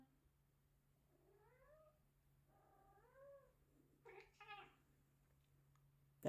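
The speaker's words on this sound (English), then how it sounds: "That was an actual meow" A small pet cat, a young kitten, gives two drawn-out meows in a row, then a short rougher burst of cries, faint and close in a quiet room with a steady low hum underneath.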